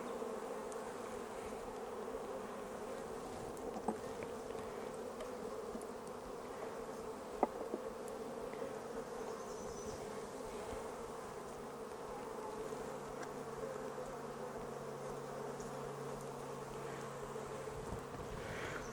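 Honey bees buzz around an open backyard beehive during a hive inspection, a steady low droning hum that fills the whole stretch with a few faint clicks and no talking.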